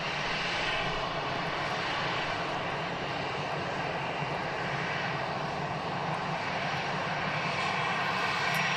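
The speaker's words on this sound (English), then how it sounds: "A330's taxiing across now" An Airbus A330 airliner taxis at Manchester Airport, its engines making a steady, broad, continuous roar that holds at an even level throughout, heard at a moderate distance with no voices over it.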